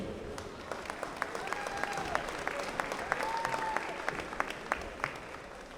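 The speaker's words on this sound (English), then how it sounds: "let's give these seniors a big round of applause for their contributions to Eastern View High School" Crowd applause in a high school gym at a boys basketball game as seniors are honored, a steady wash of clapping with sharp individual claps standing out and a faint tonal whistle or horn drifting through.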